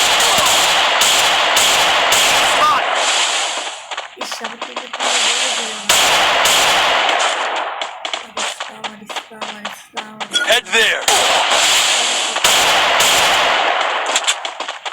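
Gunfire from a shooter video game played for headshots comes in loud, repeated automatic bursts with short gaps between them, and a voice talks over parts of the action.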